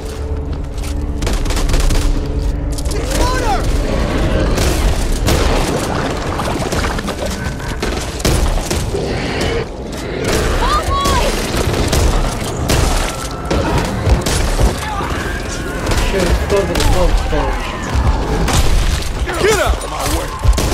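Dense, sustained gunfire and explosive booms from a zombie co-op shooter game, with rapid bursts and blasts layered continuously throughout, loud and close, while players talk over the action.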